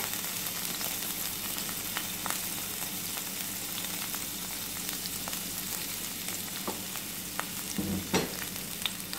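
Chopped garlic fries in hot oil with a continuous sizzle and occasional sharp pops and stirring clicks, close and moderately quiet.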